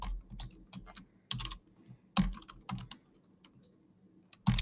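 Java code is typed on a computer keyboard in irregular bursts of close, crisp key clicks separated by short pauses.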